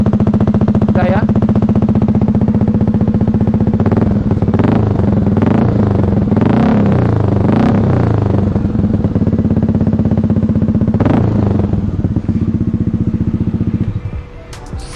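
Modified Yamaha Lexi scooter engine revving loudly and steadily throughout, with a constant low engine drone and several rising throttle blips, while voices talk over it near the end.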